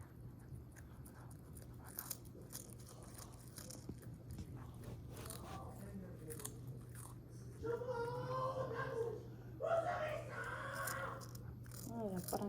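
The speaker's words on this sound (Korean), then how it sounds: "애기야, 씹어 먹어." A kitten chews and bites food with small crunching sounds, close and soft, under a faint steady hum, while a person speaks at times.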